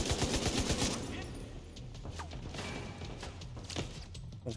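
Rapid bursts of automatic gunfire in a shooter firefight in The Division 2, loud and close with dense overlapping shots at the start, then scattered cracks and impacts under game effects.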